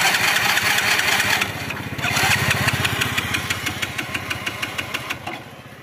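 A motorbike out of petrol is cranked repeatedly without catching, giving a rapid mechanical chugging that sputters on and off, loud and close, and slowly weakens toward the end.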